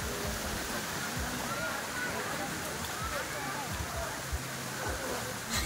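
Bolinao Falls in Pangasinan, a waterfall whose steady, dense roar of falling water continues without a break from start to finish.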